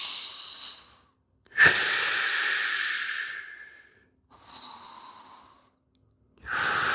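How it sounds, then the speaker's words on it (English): Deep, slow breaths during a yoga pose, long audible inhales and exhales close to the microphone with brief silent pauses between them. "Deepen your breath."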